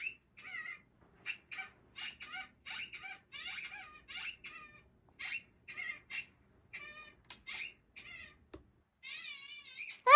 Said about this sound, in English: Bill loves the squeaky toys